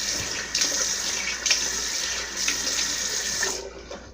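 Warm water running steadily from a tap, a loud, continuous close-up hiss and splash that stops abruptly near the end.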